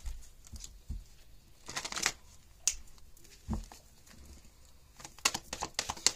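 Tarot cards being shuffled by hand: irregular papery riffles and soft slaps in several bursts, close and fairly quiet, with no talking.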